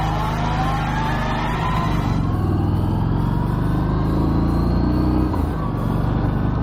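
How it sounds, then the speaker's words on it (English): Stock exhaust of a Harley-Davidson Street 500 motorcycle, an India-built learner bike, giving a steady, close, buzzy engine drone with a slight rise in revs, running alone without any talk. "the biggest disappointment with this engine has to be that standard exhaust note. It sounds more like a sewing machine than a regular Harley-Davidson."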